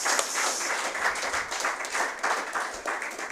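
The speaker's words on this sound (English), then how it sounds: "give a round of applause to all of our panelists" An audience applauds the panelists at an evening forum on Grenada's independence. Steady, dense clapping fills the whole stretch at a moderate, even level, with no one speaking over it.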